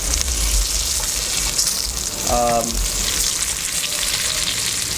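Chicken braising in a pan with white wine, vinegar and water, a loud steady sizzle and bubbling hiss running throughout, with a brief tonal squeak in the middle.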